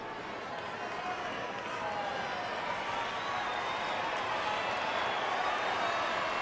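A crowd at a judo bout at the Havana Grand Prix raises a dense, sustained roar that swells slightly as it calls for a penalty against the fighter, heard at a distance as one continuous wash of voices.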